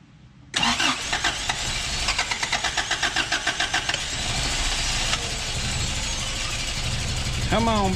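A Toyota 22RE engine cranks with a rapid rhythmic starter chug, catches and settles into a loud, steady idle close by, with a voice speaking near the end.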